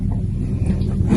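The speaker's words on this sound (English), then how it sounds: "My father is here in his very cool loud truck." A loud truck engine rumbles steadily close by, a deep continuous idle that swells slightly toward the end, with no voices over it.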